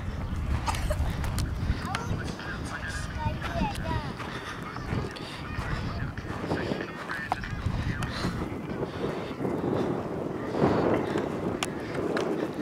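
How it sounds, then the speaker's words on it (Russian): Loud, blustery wind roars across the microphone in a constant low rumble, with a few faint honk-like calls and scattered voices in the background. "Ох ты ж, ветер-то какой, господи."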